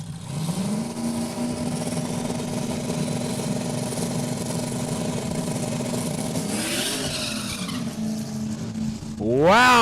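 A race car at Saskatchewan International Raceway in Saskatoon sits with its engine droning steadily, then revs and spins its tires off the line, ending in a sharp rising wail as the wheels break loose.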